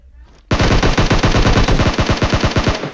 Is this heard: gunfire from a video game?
yes